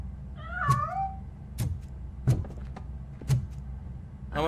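A cat meows in a Robocop video game, one drawn-out wavering meow followed by short sharp clicks or taps at a steady pace over a low background hum.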